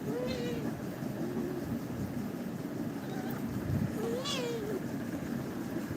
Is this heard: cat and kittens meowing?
yes